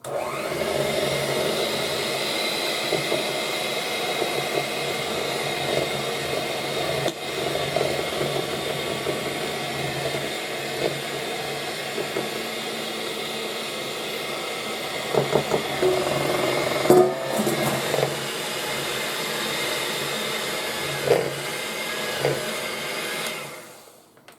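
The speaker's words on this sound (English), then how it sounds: "reduce the speed to low, add the nut mixture, and beat until dough is combined" An electric mixer beats snowball cookie dough at low speed, adding a nut mixture. A continuous close motor whir runs for over twenty seconds, with a few rattling knocks near the end before it stops.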